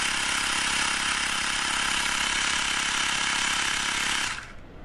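A Xiaomi Mi Portable Air Pump runs steadily at close range with a loud, even buzzing hum for about four seconds, then cuts off abruptly, leaving near silence.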